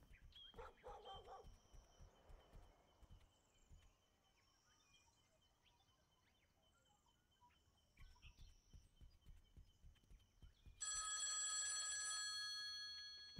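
An old-style bell telephone rings loudly inside the video game Copycat, a sustained bright trill near the end after stretches of barking dog, footsteps and quiet game ambience.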